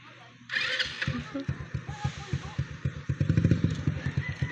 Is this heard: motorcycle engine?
yes